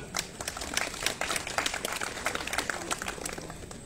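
Scattered audience clapping at a town ceremony honoring the local Téléthon coordinator, uneven and moderately close, with individual claps audible.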